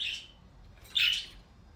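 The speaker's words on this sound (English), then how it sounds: "The other birds are calling them." Pet budgies calling indoors, two short bright chirps about a second apart, fairly close and clear with no talking.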